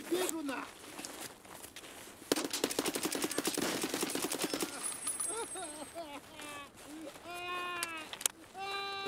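Rapid automatic gunfire in a shooter video game on the Customs map, a dense burst of shots lasting about two seconds, with scattered sharper reports and other game sounds before and after.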